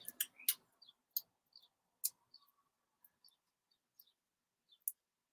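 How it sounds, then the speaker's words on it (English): Faint, sparse bird chirps and short calls from a garden in the evening, scattered isolated notes over near silence. "You hear the birds in the garden again tonight."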